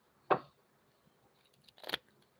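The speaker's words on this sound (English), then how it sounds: "let me shuffle this deck real" Deck of cards shuffled in two quick, crisp riffles a moment apart, close and fairly quiet against near silence.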